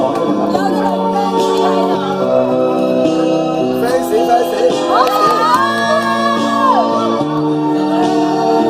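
An audience on a TV singing show cheers, shouts and whoops for a singer performing a Cantonese song. The crowd noise runs steadily over backing music for the whole stretch, with a voice briefly audible in the mix.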